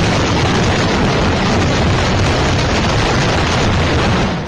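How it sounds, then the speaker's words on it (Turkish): Explosion at a chemical plant, a very loud, dense blast roar that stays at full strength and rumbles on through the whole stretch with no talk over it. "Patlamanın bölgede sarsıntı yaşanmasına neden olduğu öğrenildi."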